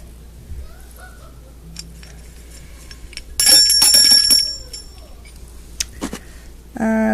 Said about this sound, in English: Got another bell here.